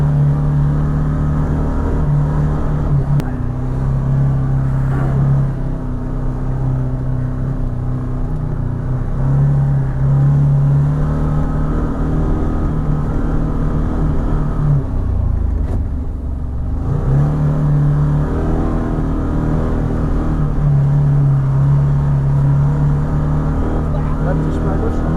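Can-Am Maverick Sport Max 1000R off-road side-by-side driving over rocky trail in rain and snow, its engine a steady loud rumble that rises and falls throughout, with people talking over it.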